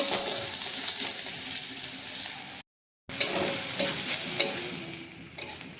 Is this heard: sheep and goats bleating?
no